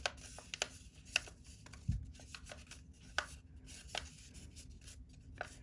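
Paper being creased and folded by hand into a circular vortex tube paper airplane, with scattered soft crinkles and rubs plus a few sharper crisp taps at an irregular pace, close and quiet.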